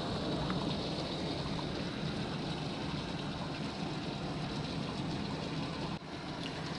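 Rainwater leaks out through cracks at the bottom of a can, making a steady, close, soft rush of trickling water that continues without a break.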